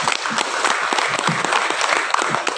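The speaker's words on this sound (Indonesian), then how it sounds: "Tepuk tangan dulu." Audience applause at a school gathering of parents and guardians, a steady dense clapping that fills the whole moment without any voices over it.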